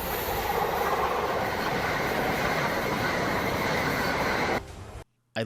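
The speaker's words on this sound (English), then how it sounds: "I love the sound of trains, like that whistling noise that they make." A European high-speed train rushes past at close range, a loud, sustained roar of wheels and air that cuts off abruptly near the end.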